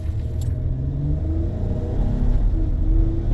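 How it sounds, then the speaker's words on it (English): A Honda Odyssey minivan's engine revs and climbs in pitch as it accelerates, heard steadily from inside the cabin, with a low road rumble beneath and no talking. "You can hear it revving up."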